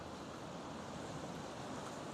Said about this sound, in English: Nice wave action along the vessel, going out like a legit washing machine.